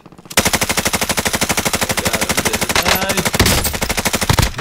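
Rapid, loud machine gun fire in Call of Duty Cold War, a continuous rhythmic stream of close shots rattling off for several seconds with barely any pause.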